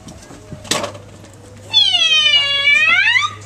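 A cat meows loudly and close by in a kitchen setting, one long drawn-out wavering meow after a brief clatter like dishes, with no talk over it.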